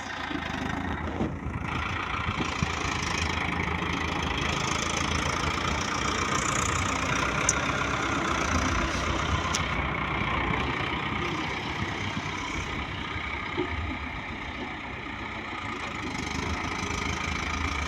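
A steady, low engine rumble from a Swaraj 855 tractor with a soil-laden trolley runs throughout, idling or running nearby, with no talking.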